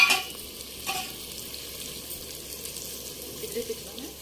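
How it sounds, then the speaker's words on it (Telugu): Rice is tipped into a hot pan for village-style pulao and stirred, giving a soft steady sizzle with a brief scrape near the start, heard up close without talk. "ఇప్పుడు బియ్యం వేసుకుందాం"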